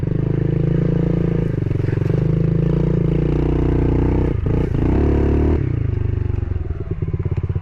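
A pit bike engine revs hard and close during a dirt bike soccer game, its loud buzzing roar dipping and stuttering mid-way before climbing again, with scraping clatter mixed in.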